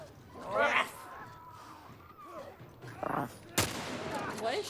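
Gunfire from a companion character rings out in The Last of Us Part 1, several distant shots crackling under a player's talk, with one sharp loud shot close by.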